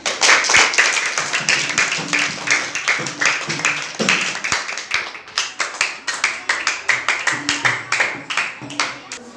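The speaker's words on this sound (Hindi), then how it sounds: "ठीक, बजाइए ताली।" Children in a classroom clap their hands together in a long, steady burst of applause, the rhythmic claps settling into a regular beat, with faint voices underneath.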